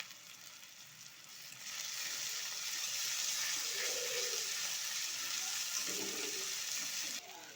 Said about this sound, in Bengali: তো আদা রসুন খুব ভালো করে ভেজে নিয়েছি